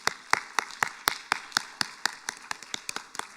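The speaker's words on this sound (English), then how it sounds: "Let's give both of these ladies a round of applause." Applause for spellers at a county spelling bee: a small group's sharp, separate claps, roughly four per second, crisp and fairly close, with no talking.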